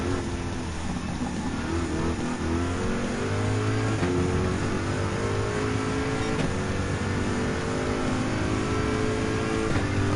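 2015 Dodge Viper SRT GT3R race car engine in Gran Turismo 7, a loud steady drone with shifting harmonic tones as it revs and holds speed through the run, continuous and close throughout.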